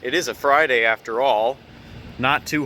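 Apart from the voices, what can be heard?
None of the usual background noises is heard.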